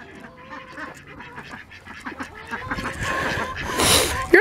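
Several ducks quack and honk together, a busy flock chattering that grows louder toward the end, close by.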